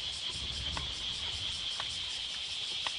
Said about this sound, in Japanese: 岩からなんかもうセミの音が聞こえるぐらい、